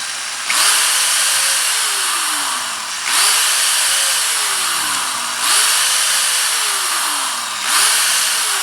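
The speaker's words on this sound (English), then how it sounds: "So using a number 36 drill, what we need to do is set it down on the table, and we need to go into the 2 holes" A power drill fitted with a number 36 bit drills holes during a Suzuki Samurai EFI conversion, running in four loud, close bursts whose pitch rises and then sags under load before cutting off.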